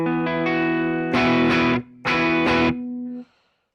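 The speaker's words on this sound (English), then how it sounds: "Very big room sound." Electric guitar chords played through a Walrus Audio ACS1 amp simulator with a big room reverb, sustained and loud, with a long reverberant tail fading out at the end; no talking.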